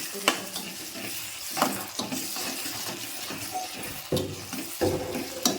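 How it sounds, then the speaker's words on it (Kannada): Tomatoes fry in a pan with coriander and salt, sizzling steadily while a utensil stirs and scrapes through them every second or so, close by and without talk. "ಈಗ ಟೊಮೆಟೊ ಹಣ್ಣಂತೂ ಮಸ್ತ್ನಾಗ ಫ್ರೈ ರೀ ಇದಕ್ಕೆ ಒಂದು ಸ್ವಲ್ಪ ಕೊತ್ತಂಬರಿ ಸೊಪ್ಪು ಹಾಕೋತೀನಿ ರೀ"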